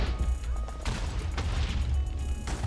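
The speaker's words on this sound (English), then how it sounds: "the first explosion is finally going." Explosions go off in a video game as a series of sharp, booming bursts, three distinct blasts spaced irregularly over a rumbling low background, fairly loud and without speech.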